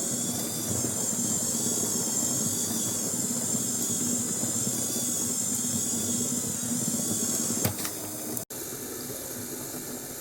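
A Meccano Grey Fergie tractor model, built to Plan 248, has its small motor running forward, making a continuous close, even whirring drone with a high whine. It ends with a brief click and a sharp knock near the end.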